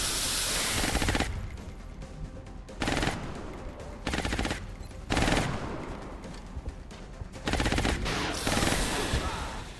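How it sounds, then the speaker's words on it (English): Gunfire in XCOM: Enemy Unknown, with sniper rifle shots among loud repeated bursts of automatic fire separated by short hissing gaps, with some voice present. "Good shot, sniper."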